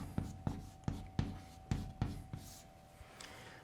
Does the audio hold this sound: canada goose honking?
no